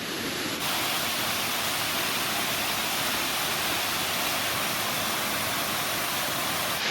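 A two-step waterfall on a mountain hike through fell country, a steady, dense roar of falling water that stays loud and unbroken throughout, with no voices.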